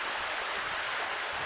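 Continuous rushing water from a waterfall and stream on the Ka'au Crater hike in Hawaii, a dense, steady hiss that fills the whole moment without a break, with no voices.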